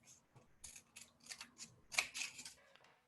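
Scissors snip through a cardboard toilet paper roll during a kids' craft, a quick run of crisp, close cuts that ends in one louder crunch, quiet overall with no talking.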